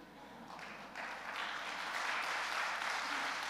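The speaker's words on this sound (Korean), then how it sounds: "박수를 쳐주셨는데요" A church congregation applauds during a service. The clapping is soft and distant at first and grows into a fuller, sustained patter.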